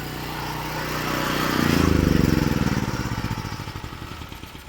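A backup power generator roars up to speed, then settles into a loud, close, rapidly throbbing engine run.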